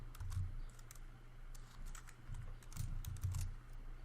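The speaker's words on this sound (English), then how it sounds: "we're going to type one more space, and in quotes, we're going to type hello world" Code being typed on a computer keyboard, a steady run of soft close key clicks over a low background hum, with no talking.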